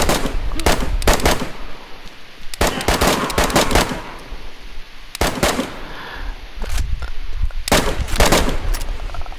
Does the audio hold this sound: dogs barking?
no